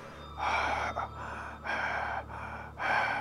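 A voice imitates loud, heavy breathing: three long, rasping breaths with short pauses between, close and fairly loud over a low steady hum.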